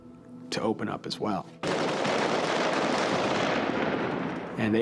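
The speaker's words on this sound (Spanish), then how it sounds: "Cuando oyeron mis disparos, los soldados del otro vehículo abrieron fuego también." A brief voice comes first, then a sustained dense burst of rapid gunfire from soldiers in a vehicle that runs continuously for several seconds, loud and close.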